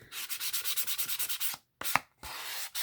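The edge of a journaling board is sanded in a quick run of about a dozen rhythmic rubbing strokes, then a pause and a few slower, separate scrapes, close and alone.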